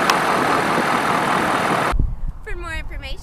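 Ford F-250 with a 6.7-liter Power Stroke turbo diesel V8 running at idle, a steady close rumble for about two seconds that cuts off abruptly, followed by someone talking.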